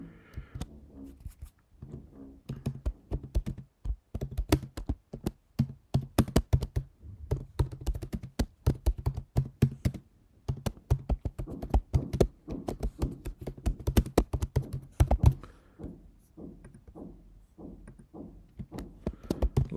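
An address is typed on a computer keyboard: rapid, irregular bursts of close key clicks with brief pauses between words, no talking.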